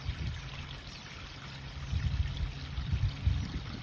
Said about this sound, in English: Switch the shower back on.